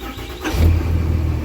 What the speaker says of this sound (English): someone said my truck took too long to start.